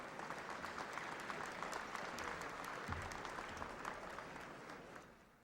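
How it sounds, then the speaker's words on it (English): Audience applause at an award ceremony, dense steady clapping from a crowd that holds for about five seconds before starting to fade out at the end. "How about a big round of applause?"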